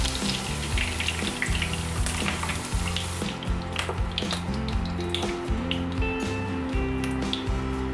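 Potatoes pan-frying in hot oil for a Filipino menudo, a steady close sizzle with bursts of spattering and occasional stirring scrapes, continuous throughout with no talking.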